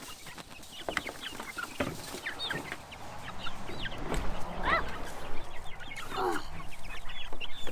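Americana, Rhode Island Red and Bantam chickens cluck close by in a pen, with scattered calls and rustling that build toward the end, and a brief spoken exclamation among them.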